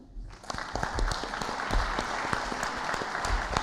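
A crowd at an awards ceremony in the CCI Paris Île-de-France hall applauds for a jury member, dense continuous clapping rising quickly and holding steady, close and loud, with no talk over it.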